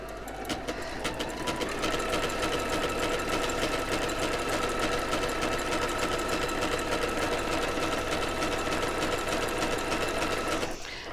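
Sewing machine stitching fabric appliqué, a steady fast mechanical whir and needle rattle running continuously at close range, then stopping abruptly near the end.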